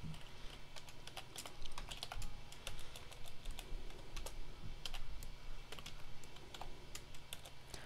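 Quiet, continuous clicking of keys on a computer keyboard, irregular bursts of typing with no talking.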